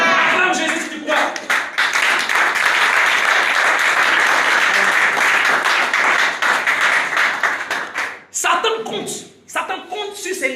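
A church congregation breaks into loud, sustained applause and clapping for Jesus, dense and close, with cheering voices mixed in before it thins and falls away near the end.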